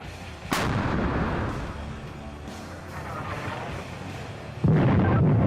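A 2S1 self-propelled howitzer fires in a frontline combat position: two loud, booming artillery blasts, one early and one near the end, each followed by a long rolling rumble with no talk.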